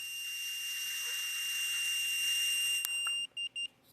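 A breathalyzer gives a sustained high electronic tone as someone blows into it, then a few short beeps in quick succession, faint and steady with no talking.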